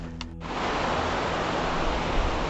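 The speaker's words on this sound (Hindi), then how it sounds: "आगे काफ़ी पहाड़ से ज़्यादा मात्रा में पानी गिर रहा है" Heavy torrent of rainwater pouring down a mountainside in monsoon jungle, a loud, steady broadband roar that swells in after a short quieter opening and holds unbroken, close and dominant.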